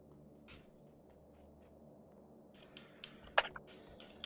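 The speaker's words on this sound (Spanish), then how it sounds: "Ahí se escuchan las teclas" Computer keyboard keys clatter in a quiet room during a squad match of an online shooter game, soft scattered taps building into a brief cluster of sharper clicks, with one loud click standing out.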